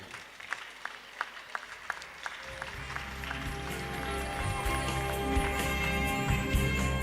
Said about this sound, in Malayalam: ഒരു നല്ലൊരു കയ്യടി കൊടുക്കുക